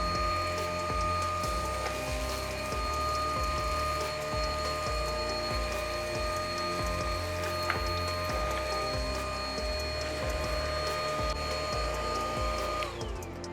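A Riccar cordless upright vacuum runs on a hard floor in suction-only mode, a steady whirring motor hum with a constant tonal whine and soft rhythmic ticking, close and continuous, easing slightly near the end.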